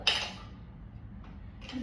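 A metal pressure cooker from a household kitchenware collection is picked up and handled, giving a bright metallic clink at the start and another near the end, with quiet room tone between and no speech.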